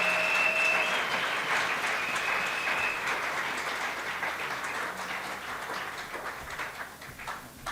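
A church congregation applauds during a worship service: steady, sustained clapping fills the room at an even level from start to finish, gradually thinning slightly toward the end.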